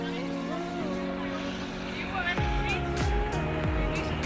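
A small scooter engine hums and revs as it moves through traffic in Yangshuo, China, with voices talking close by over the engine.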